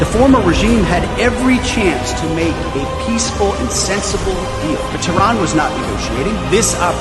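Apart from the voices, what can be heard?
No everyday noise stands out behind the speech.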